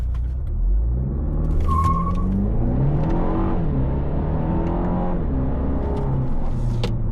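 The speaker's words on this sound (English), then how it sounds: "After this speed breaker, let's launch the car." A GAC Empow R's engine revs up hard in sport mode during a launch and climbs steadily in pitch, a loud continuous rumble heard from inside the car, with no talking.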